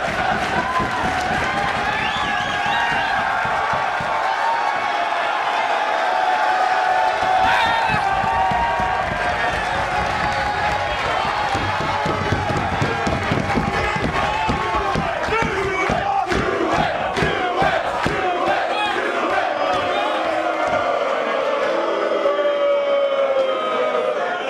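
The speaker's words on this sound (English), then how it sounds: "now apparently the fans are chanting for" Wrestling fans at an AEW show chant and cheer for Joey Ryan, a loud, sustained crowd roar with rhythmic chanting and clapping building through the middle, near and continuous.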